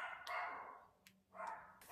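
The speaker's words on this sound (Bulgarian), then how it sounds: "Кучето ми просто много иска да говори с вас." A pet dog barks indoors in two short, muffled, fairly faint bursts separated by a brief pause.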